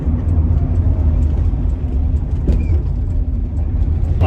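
A 1974 Audi 100 Coupé S cruising south on Highway 1 motorway in New Zealand, with a steady, close engine and road rumble heard from inside the car, continuous and even throughout, with no talking.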